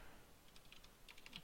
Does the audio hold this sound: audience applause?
no